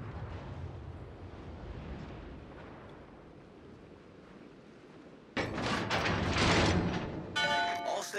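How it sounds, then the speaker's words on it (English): Artillery strikes in a video game land as a heavy roaring explosion that erupts abruptly partway through, a loud sustained blast with crackling debris, followed by a second burst after a low rumbling lead-in. "All stations, requesting fire on the designated target."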